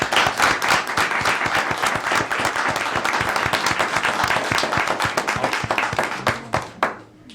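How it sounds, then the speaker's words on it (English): A council meeting audience gives a long, dense round of applause with many hands clapping close by, steady for several seconds before thinning to a few scattered claps at the end. "let's give Dr. Ahmed a great round of applause."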